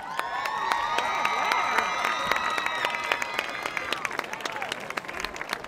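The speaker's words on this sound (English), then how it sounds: "Give them a round of applause." Crowd at a high school football game between Agoura and Newbury Park applauds and cheers for the homecoming court, a dense, steady wash of clapping with whoops and raised voices running throughout.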